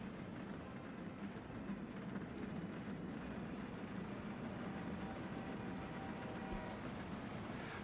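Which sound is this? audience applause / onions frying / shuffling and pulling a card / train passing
train passing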